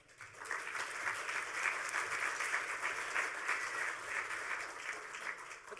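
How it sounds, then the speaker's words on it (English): A conference crowd at a hacker gathering applauds the speakers, steady dense clapping that holds evenly throughout without any talking. "let's give these guys a round of applause"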